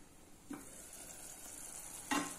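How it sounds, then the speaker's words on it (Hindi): Okra masala sizzles in a covered pan over a medium flame, a quiet, steady hiss marked by two brief louder stirring scrapes. "ढककर एक मिनट के लिए मीडियम फ्लेम पे पका लेंगे।"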